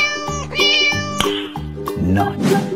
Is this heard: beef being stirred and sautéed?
no